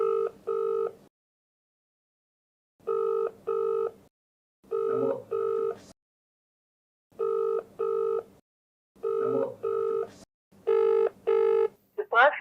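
A telephone rings on and on with nobody picking up, its double trill bursts repeating in a steady pattern with pauses between, loud and close with no talk over it.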